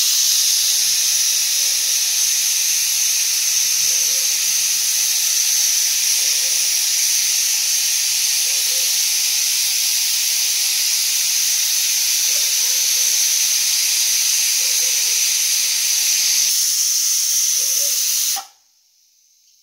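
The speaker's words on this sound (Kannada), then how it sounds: "ವಿಷಲ್ ಆಗಿದೆ, 5 ವಿಷಲ್ ಆಗಿದೆ ಫ್ರೆಂಡ್ಸ್." A pressure cooker of chicken biryani vents a loud, steady hiss of steam up close for about eighteen seconds, with a faint regular puffing beneath it, before the sound cuts off sharply.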